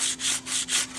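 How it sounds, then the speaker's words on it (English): Sandpaper rubbed by hand across a plastic piece, four quick rasping back-and-forth strokes close up, steady and fairly loud with short gaps between passes. "We can take the sandpaper and begin sanding."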